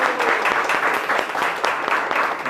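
Dense applause from an audience welcoming a guest speaker onto the stage at a product training event, steady and fairly loud across the whole span with no voices over it.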